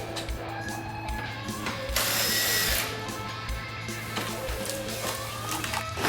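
A ratchet with a 10mm socket undoes battery box bolts with close, repeated clicking strokes in a steady rhythm. A louder mechanical whir briefly joins midway.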